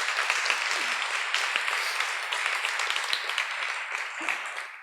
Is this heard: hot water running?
no